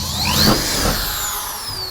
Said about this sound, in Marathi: नट मारतोय बरं का, स्क्रू मारतोय तो सध्या.